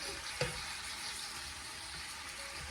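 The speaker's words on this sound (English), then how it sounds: "I need this chicken to fry out really well" Chicken pieces frying in hot oil for Guyanese cook-up rice, a steady soft sizzle and crackle throughout with one brief clink near the start, fairly quiet and with no talking.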